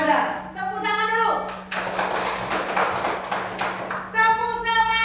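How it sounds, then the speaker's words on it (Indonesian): Schoolchildren in a classroom clap their hands together for a few seconds, a brisk dense patter between a teacher's spoken instructions. "Tepuk tangan dulu."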